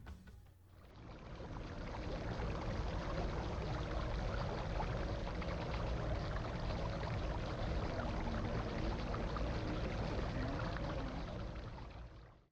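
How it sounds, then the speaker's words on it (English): A water fountain splashes and pours steadily inside a quiet upscale shopping mall, a continuous broadband wash of falling water heard close with no voices. "And here's another fountain in this mall,"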